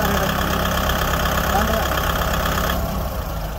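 A Kubota tractor diesel engine runs at a steady, loud idle close by, its continuous rumble holding throughout with a slight change in tone near the end.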